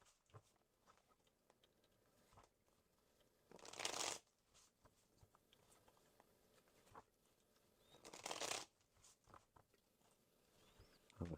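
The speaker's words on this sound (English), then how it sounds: "I'm going to shuffle these as well." Tarot cards are shuffled by hand in two brisk, soft riffling bursts separated by quiet pauses, close and faint, with small handling rustles in between and no talk.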